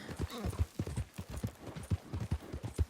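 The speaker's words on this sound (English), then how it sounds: "Gallop, gallop, gallop." Horse hooves gallop in Red Dead Redemption 2, a steady, rapid clip-clop of evenly spaced hoofbeats, close and prominent, with no one talking over them.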